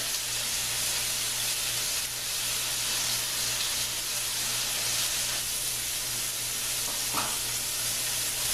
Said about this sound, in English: I'm just going to go ahead and start sticking the fries in there